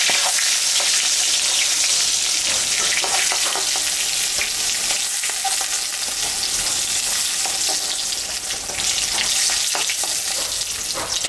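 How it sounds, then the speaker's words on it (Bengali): Pointed gourd frying in oil, with a dense, continuous hissing sizzle at close range throughout and occasional crackles, no talking. "পটলটা ভাজা হয়ে গেছে আমি এখন তুলে নেব"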